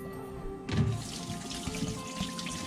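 Water running and splashing as washed shrimp krill drain for making belacan, a sudden gush after a quiet start, then a steady trickling flow with a few soft knocks, close by.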